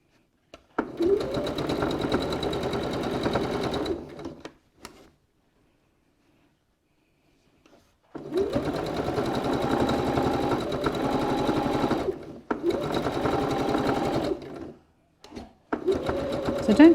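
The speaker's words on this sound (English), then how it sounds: "just go straight over those last the first couple of stitches that you made" A sewing machine stitches a drawstring seam on a cylindrical fabric case with a loud, close, steady whirring rattle. It runs in several bursts of a few seconds each, separated by full pauses.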